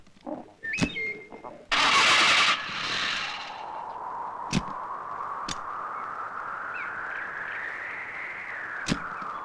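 A car engine cranks with a loud burst, then settles into a steady idle that slowly rises in pitch, broken by a few sharp knocks, with no speech.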